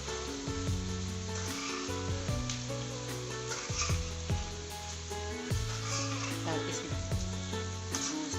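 Aloo karahi ingredients, garlic and potatoes, frying in a karahi pan while being stirred. A steady sizzle runs throughout, with continuous tonal background music over it.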